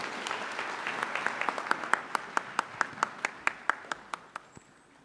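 Applause at a University of Nairobi graduation ceremony for the Chancellor, a steady crowd clapping with sharp rhythmic claps rising out of it, several seconds of sustained hand-clapping with no talk.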